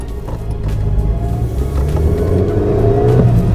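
A small Suzuki Beidouxing boxy microvan's little engine revs up while driving, a steady, loud mechanical drone rising in pitch throughout, with no talking.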